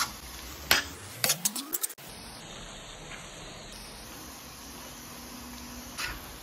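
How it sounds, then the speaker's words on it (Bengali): A spoon stirs poppy seed paste mixed with onion in a pan for Bengali aloo posto, giving a few faint clinks and scrapes near the start over a quiet, steady hiss. "এই পোস্ত বাটার মধ্যে পেঁয়াজ অ্যাড আছে। এটাকে ভালো করে নাড়িয়ে চাড়িয়ে নেব।"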